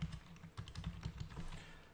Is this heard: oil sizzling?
no